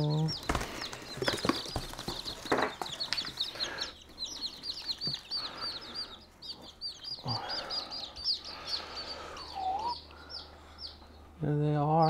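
Black sex link baby chicks peep steadily in high, rapid chirps close by, with handling noises and brief bumps around them and a person talking quietly at moments.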